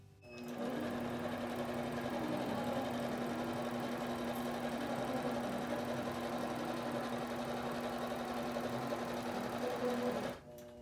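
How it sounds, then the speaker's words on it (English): An Intelliquilter computerized quilting machine stitches in the ditch along a quilt seam, humming in a steady, even whir from start to finish, nearby and alone, before stopping abruptly at the end. "I'm going to go ahead and stitch that right up the ditch"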